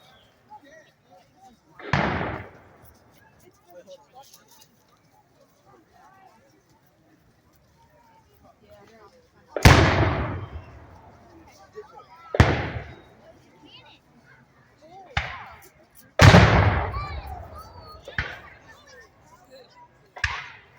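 Cannon fire at a Fort Massac historical reenactment battle: several loud, sharp booms spaced irregularly across the scene, each rolling out into a long outdoor echo, with quiet gaps and faint activity between shots.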